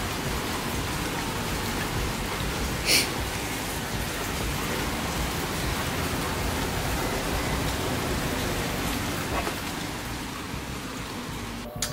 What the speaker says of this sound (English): It is pouring outside.